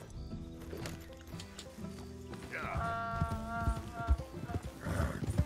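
A horse in Red Dead Redemption 2 clip-clops along with hooves thudding, and neighs a couple of times partway through, heard fairly close behind faint game sounds.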